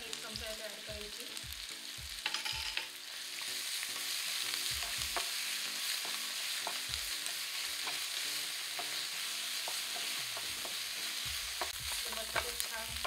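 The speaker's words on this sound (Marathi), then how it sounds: "मसाले छान फ्राय झाले" Green chili paste and ginger-garlic paste frying in a pan, a steady bright sizzle broken by repeated scraping strokes of a spoon, close and fairly quiet, with no voices.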